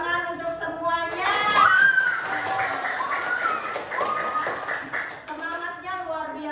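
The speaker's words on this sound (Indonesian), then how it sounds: "Tepuk tangan untuk semuanya." A class of schoolchildren claps hands together in a classroom, a quick burst of scattered, overlapping claps rising in the middle while a voice and children's voices carry over it.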